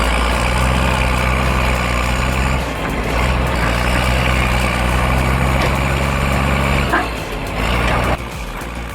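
A Caterpillar D6C bulldozer pushing a blade through rocky ground gives a loud, steady, low diesel rumble, close by and continuous, with a slight dip in level midway and a brief change near the end.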